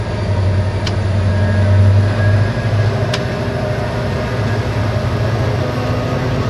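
Diesel locomotive C509 climbing a hill in notch 6, heard from inside the cab: a steady, loud low engine drone with rumbling wheels and a couple of brief high clicks, no talking.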